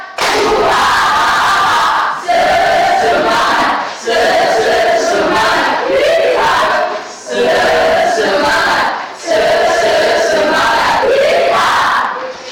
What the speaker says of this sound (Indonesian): 3 kali tepuk semangat.